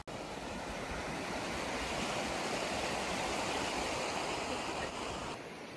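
Steady broadband rushing water from a pretty river flowing nearby, heard outdoors on a flat stretch of a hike in a lakes region, continuous and fairly loud with no voices.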